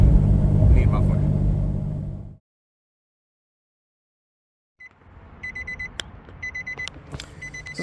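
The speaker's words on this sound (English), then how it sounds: "let's go ahead and do a cold start to kind of hear that annoying muffler" Nissan Xterra with a worn, loud muffler on a cold start: a heavy rumble cuts off into silence, then the engine turns over and settles into a rough idle while electronic warning chimes beep repeatedly.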